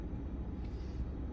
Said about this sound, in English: And here comes train 45 now